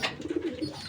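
Soft, throaty cooing from a loft-kept racing pigeon breeder bird, a few low rounded coos in quick succession, close and fairly quiet, with no talking over it.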